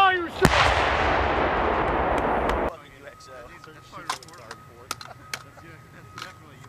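AT4-CS confined-space light anti-armor weapon fired by soldiers on a range in Germany: one sharp, loud blast followed by a long roaring wash of noise that cuts off abruptly, then sparse clicks and brief faint voices.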